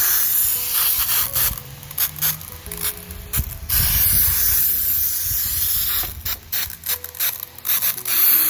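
A hand spray bottle mists water onto soil covering freshly sown coriander seeds, with repeated hissing sprays and clicking trigger pumps close up, no talking.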